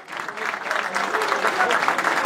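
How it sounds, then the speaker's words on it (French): Crowd at a Swiss second-division promotion-final football match in a stadium applauds steadily, a dense wash of clapping with murmuring voices, moderately loud throughout. "l'ensemble du stade l'applaudit"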